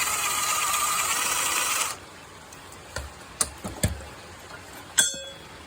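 A ratchet loosening the head bolts on a Poulan mower engine, giving a few sharp clicks and clacks, some loud bursts and pauses. A steady hiss fills the first two seconds, then stops.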